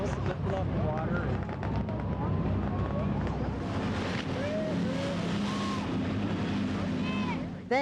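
Motorboat engines roar continuously with wind buffeting the microphone, a busy outdoor water scene at an annual Fourth of July boat race in Alaska, with high whining engine tones rising and falling.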